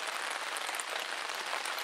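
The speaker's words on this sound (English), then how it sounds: "as you can hear, it started to rain" Steady rain falling outdoors at a campsite, a dense even hiss of drops pattering on surfaces, moderately quiet and continuous with no voices.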